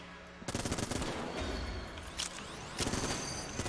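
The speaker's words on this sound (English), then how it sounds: "Do not shoot my own gun, my own bullets back at me, sir." Rapid automatic gunfire from the video game Enter the Gungeon, fired in dense bursts that start after a short pause and swell again near the end, loud and continuous.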